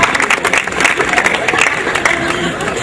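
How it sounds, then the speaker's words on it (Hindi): Applause from a live audience at a Hindi comedy poetry gathering, a steady dense wash of clapping lasting the whole stretch, loud and even with no talk over it. "एक जोरदार तालियां बजाइए"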